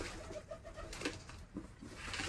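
Pigeons coo softly in short repeated phrases, faint and somewhat distant, over a quiet background at a pigeon market in Lucknow.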